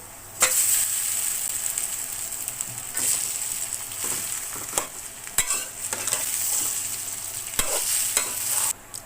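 Squeezed raw mango pieces drop into hot oil seasoned with garlic, bay leaf, dried chili and five-spice, then get stirred; a steady close sizzle runs throughout with sharp scraping clicks of the spoon against the pan.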